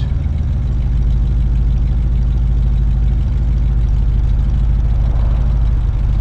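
A 1968 Ford F100 truck engine idling after a cold start, a loud, steady low rumble with an even throb that holds throughout without a break or voices.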